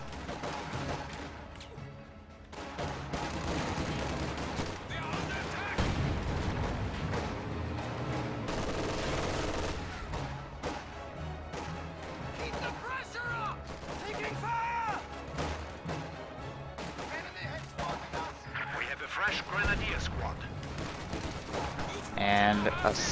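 Machine gun and artillery fire in a real-time strategy match fill the scene with rapid overlapping bursts, booms and crashes, a busy, continuous din of battle.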